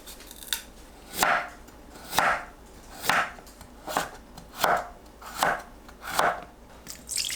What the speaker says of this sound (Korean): 씻은 브로콜리를 한 입 크기로 썰어 주세요.